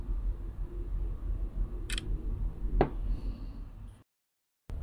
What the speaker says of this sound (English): the two-staged shutter button, which allows precise focusing and taking a shot with the camera app